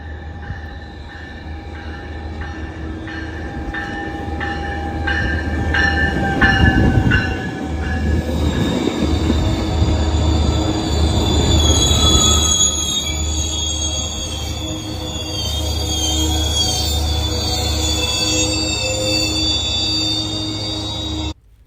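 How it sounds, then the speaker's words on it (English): A Metrolink commuter train at Fullerton station rolls in and brakes to a stop, its wheels squealing in sustained high-pitched screeches over a loud rumble and rail clatter, with no voices. "And there goes the squealing of the rail wheels there as the train comes to a stop."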